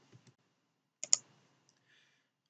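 A computer mouse clicks a few times while working in CAD software: a pair of faint clicks, then a sharper double click, then a tiny tap, all quiet and close in near silence.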